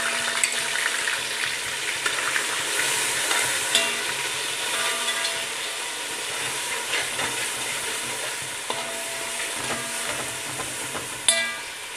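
Ginger garlic paste and spices frying in hot oil for fish biryani, giving a steady, loud sizzle with occasional stirring scrapes and small pops throughout, with no talking.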